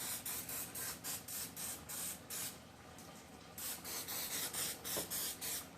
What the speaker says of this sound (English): I'm going to spray around the edges just a little bit.